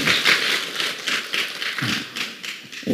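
An audience at a Buddhist dharma assembly claps in a quick, uneven patter of many hands. It is fairly close and steady for a few seconds, with no voices.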